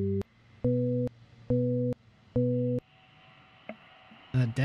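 Morse code beeps in a heist video game: a tone sounds in three long, evenly spaced pulses, then a short blip, with a brief voice at the end.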